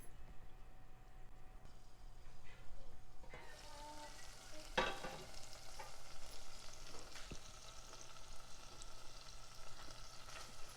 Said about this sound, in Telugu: ఇలా మూత పెట్టి మధ్య మధ్యలో కలుపుతూ టమాటో మెత్తబడే వరకు వేయించుకోవాలి.